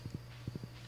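Horse hooves in the farming video game Stardew Valley: a brief run of soft clip-clop steps in two small clusters over a low, steady background tone.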